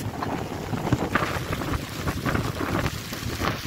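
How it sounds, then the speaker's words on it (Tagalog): Strong wind with heavy rain buffets the microphone in rough, uneven gusts outdoors among chestnut trees, a steady roaring rush with no voices present. "Yung hangin lang ngayon naman ang malakas."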